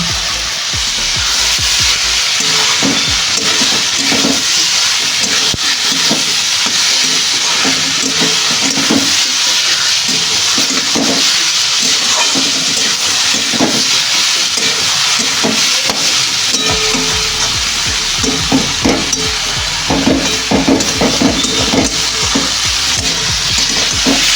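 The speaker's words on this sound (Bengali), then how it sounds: "এবার হলুদ আর একটু জিরে গুঁড়ো দিয়ে আর একটু নেড়ে চেড়ে নেব।" Bottle gourd with turmeric and cumin powder stirred in a pan, a steady loud sizzle with scraping spatula strokes throughout, no voices.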